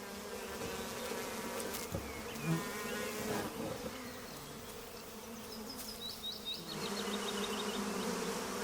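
Honey bees buzz around a beekeeper's honeycomb in the Carpathian Mountains, a steady close hum with a few brief louder passes.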